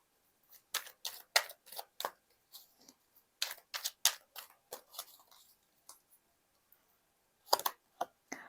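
Tarot cards handled and drawn from a deck, a series of close, soft, crisp snaps and flicks in uneven bursts with short pauses, ending with a final cluster of card sounds.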